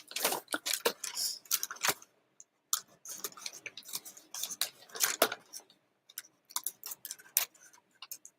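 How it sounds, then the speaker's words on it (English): Scissors cut through a brown paper lunch bag in quick bursts of crisp snipping and crackling paper. The bursts come in short runs with brief pauses, close and alone. "And I've just made my initial slice into the bag. And I'm going to cut through."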